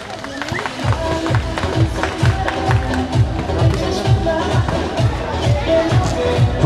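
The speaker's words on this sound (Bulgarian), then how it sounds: "моля бурно да ги подкрепим и аплодираме" At a sports challenge event in Vratsa, a crowd claps steadily in unison and cheers for a group of female athletes. The loud rhythmic beat runs under a busy babble of voices, with someone speaking over it.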